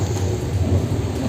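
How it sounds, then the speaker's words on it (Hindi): Heavy rain pours down outdoors with a rumble of thunder, a dense, loud, continuous wash of noise with no voices over it. "और पूरा बारिश है यहाँ पर"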